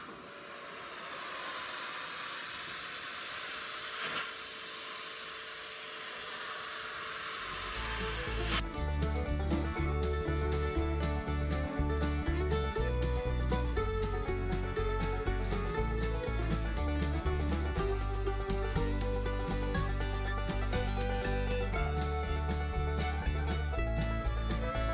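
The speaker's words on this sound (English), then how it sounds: "Now we got the pressure washer back out and James is pressure washing everything." A pressure washer sprays a weathered wooden deck with a steady, broad hiss for about eight seconds, then loud music takes over.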